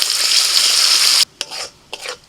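A ground paste of tomato, chili, ginger and cashew hits a hot pan for a mushroom masala curry and sizzles loudly and close for about a second, then cuts off, leaving two short scraping stirs.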